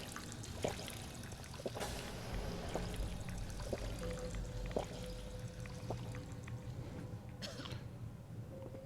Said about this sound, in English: so people aren't watching me drink water for 60 seconds at a time